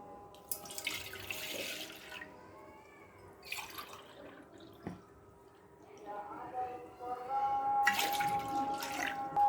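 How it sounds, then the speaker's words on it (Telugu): Milk is poured into a pan for semiya payasam in a home kitchen, giving soft liquid splashing in a few bursts with faint clinks in between, quiet and close, while a voice talks at times. "ఇప్పుడు పాలు పోస్తున్నాం."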